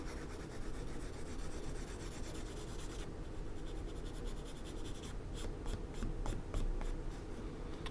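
Pencil shading lines back and forth on paper while drawing a house, a steady close scratching that later breaks into quicker separate strokes.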